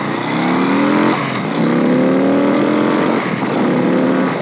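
A 2021 Harley-Davidson Street Bob with the 114 engine accelerates hard and close, its loud rumbling exhaust climbing through the gears with short breaks at each shift.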